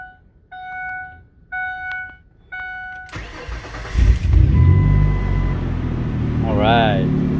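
A Ford Explorer 4.0 with a newly replaced starter sounds several sharp warning chimes, then its engine cranks and catches, settling into a loud, steady idle up close, with a brief warbling tone near the end.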